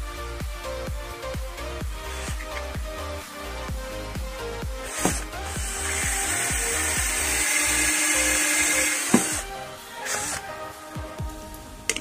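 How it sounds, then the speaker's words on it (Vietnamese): A power drill fitted with a glass hole saw bit bores into glass. Rapid rhythmic clicking gives way to a loud, sustained grinding whine that then stops abruptly, close by and with no talk. "Mình sẽ khoan một cái lỗ ở đây trước đi."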